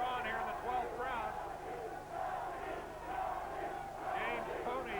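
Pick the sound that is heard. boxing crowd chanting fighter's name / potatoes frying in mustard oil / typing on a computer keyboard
boxing crowd chanting fighter's name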